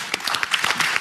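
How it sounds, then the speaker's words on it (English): Audience applause at a speaking event, a dense, steady patter of many hands clapping close by through the whole moment, with no voices on top. "We're not talking through the applause."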